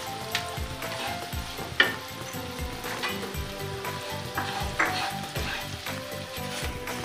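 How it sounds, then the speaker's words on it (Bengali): Fried semolina and raisins are stirred in a pan, with soft sizzling under repeated scraping and clinking strokes of a spoon at an uneven, steady pace. "এবার ভাজা সুজিটা দিয়ে একটু আবার নেড়ে নেব, আর সঙ্গে কিশমিশটাও দিয়ে দেবো।"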